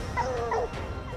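Hunting dogs on a mountain chase, a short burst of excited yips and whining barks from a pack, moderately close and layered over rough outdoor background noise.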